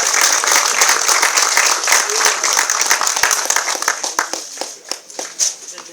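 A crowd at a ceremony with speeches claps loudly together, the applause gradually thinning into scattered individual claps as it fades toward the end.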